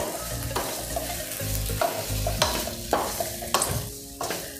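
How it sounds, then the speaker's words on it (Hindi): Red chili powder being stirred into fried idli pieces in a hot pan, with a steady close sizzle of oil and repeated scraping strokes of the spoon against the pan, with no talking. "सादा लाल मिर्च डालेंगे, इसे भी मिक्स कर लेंगे।"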